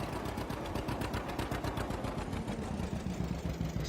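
A John Deere Johnny Popper two-cylinder tractor engine idles down, its steady low chugging pulses continuing evenly up close with no voices.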